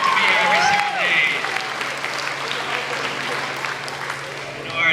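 An audience at a school moving-on ceremony claps for students in a sustained, dense round of applause, with a few voices and a sung or called tone briefly rising above it early on.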